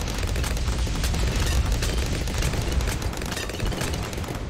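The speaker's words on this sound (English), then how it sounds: "This bomb shooter is doing a ton of work for us." Bomb shooter towers in a tower defense game fire continuously, making a dense, steady barrage of overlapping booms and pops that stays loud throughout, with no talk.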